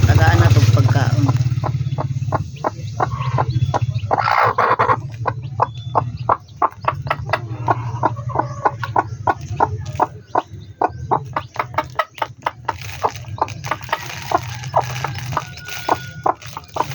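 Newly hatched chicks, crosses of sweater dome and hatch grey, peep in rapid repeated chirps at close range, with a speaker talking over them and a low hum underneath.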